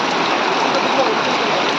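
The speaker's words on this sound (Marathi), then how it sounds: "संध्याकाळच्या टायमाला ना पाऊस खूप मोठा पाऊस येतो हा बघा" Heavy evening monsoon rain in a Konkan village pours down in a dense, steady hiss, loud and close, with no other sounds standing out.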